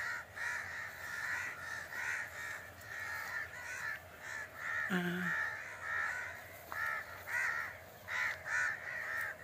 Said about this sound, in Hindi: कौवे उसे जीने नहीं दे रहे हैं।